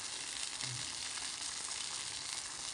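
Green chilli kharda for a village-style dish frying in a pan with water added, a steady close broadband sizzle crackling continuously throughout with no voices.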